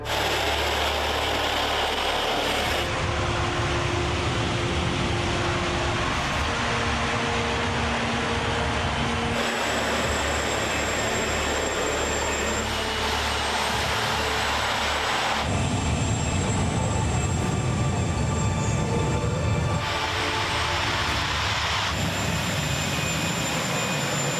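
A helicopter turbine fitted in a tank in place of the T-64 engine runs with a loud, continuous jet-like roar and high whine that holds steady throughout, shifting in tone at intervals.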